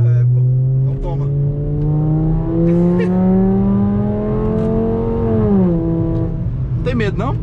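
Loud close drone of a Volkswagen Jetta 5-cylinder with a straight-pipe exhaust, its engine note rising gradually and then dropping, with people talking over it.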